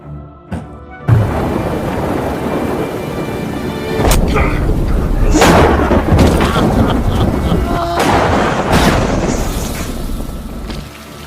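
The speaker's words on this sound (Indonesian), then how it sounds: "turun dengan lebat dan petir menggelegar" A heavy thunderstorm in a film scene rumbles with loud booming thunder over dense, steady rain, with sharper cracks breaking through several times across the stretch.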